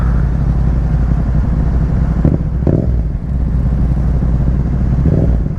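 A 700cc motorcycle engine revving, a loud steady low rumble that holds throughout with a few brief surges of rising pitch, heard alone without talk.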